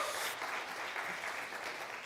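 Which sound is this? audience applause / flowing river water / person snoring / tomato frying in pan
audience applause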